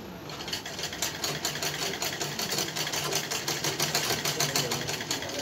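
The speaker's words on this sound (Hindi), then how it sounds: "हमारी हो रही है सिलाई।" A sewing machine stitches a printed cotton neck design with a steady, rapid mechanical clatter at moderate volume, running continuously without pause.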